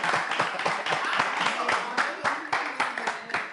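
Audience members clap in distinct, fairly loud claps with a loose irregular rhythm, a voice talking over them at times during a lively stage show.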